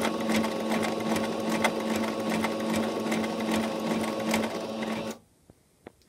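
A sewing machine running a short burst of rapid stitches on mending work, a steady close whir that cuts off abruptly, followed by a few faint clicks.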